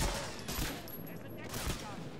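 Gunfire in the World War II shooter Medal of Honor Frontline, a dense run of loud shots that rises and falls over a couple of seconds amid game ambience.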